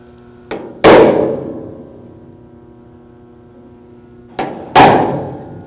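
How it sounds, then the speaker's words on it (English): Two sharp metallic hammer taps on a prick punch marking a drill hole for a DumperDogg accessory install, each a light tick followed by a loud ringing clang that fades, several seconds apart. "Then I'm going to take a prick punch, try to get in the center of the hole."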